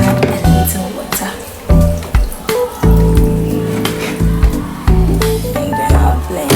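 Water poured into a blender over chopped onion, garlic and ginger while making shito, a splashy liquid fill with squishy, clattering kitchen noises throughout, loud and close.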